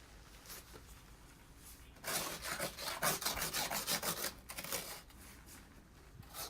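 An ice scraper rasps snow and ice off a car window in a quick series of scratchy back-and-forth strokes, near and fairly faint, with a quieter lead-in and tail.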